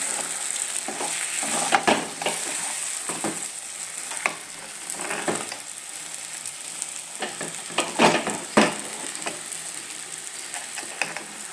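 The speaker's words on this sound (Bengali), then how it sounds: "আর জলটাও দিব না, এখন এরকম করে একটু নাড়াচাড়া করে নেব।" Potatoes and eggs being stirred and fried in a pan, with scraping spatula strokes and irregular clicks over a steady soft sizzle, close and fairly quiet.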